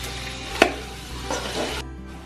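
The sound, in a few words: frying food in a pan for hariyali chicken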